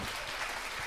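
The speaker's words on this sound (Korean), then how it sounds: "박수 한번 주세요." An audience at a laughter lecture breaks into applause, a dense, even wash of many hands clapping for about a second.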